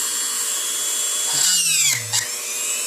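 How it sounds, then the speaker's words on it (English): Power drill boring mounting holes into a Losi micro RC car body, a close high-pitched whine that briefly bogs down and drops in pitch as the bit pushes through, then spins back up. "2 mounting holes drilled in, as simple as that"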